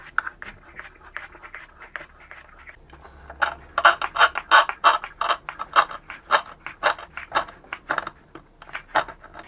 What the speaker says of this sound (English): I'm going to use these longer clamps